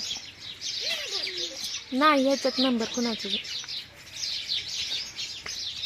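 Dense, continuous chirping of sparrows in a tree fills the whole clip, with a person's voice speaking briefly in the middle.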